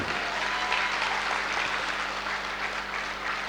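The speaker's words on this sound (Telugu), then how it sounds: "గట్టిగా చప్పట్లతో" A crowd at a vegetarian rally claps loudly and steadily. The applause is dense and continuous, close and full, and fills the whole stretch with no voices over it.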